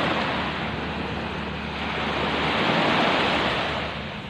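Sea waves wash onto a beach in Zambales with a continuous broad hiss, swelling gently and easing again.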